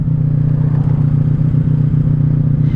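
A 1984 Honda Sabre VF1100S motorcycle engine runs loud and steady at high revs, a dense continuous drone held throughout without any voices.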